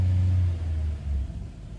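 A 2011 Nissan Rogue with the 2.4 engine, fresh from an oil change, holds a steady low rumbling rev for a couple of seconds, loud and close, easing slightly toward the end.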